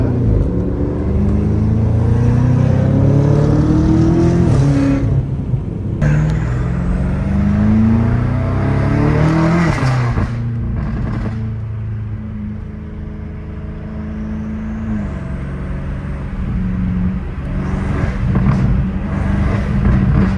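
BMW M5 F90 Competition with a titanium exhaust and downpipes, revving hard up close: loud rising and falling engine sweeps with sharp pauses between pulls, going on for about twenty seconds without talk.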